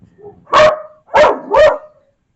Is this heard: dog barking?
yes